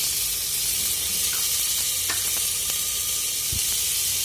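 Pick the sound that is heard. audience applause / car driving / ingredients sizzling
ingredients sizzling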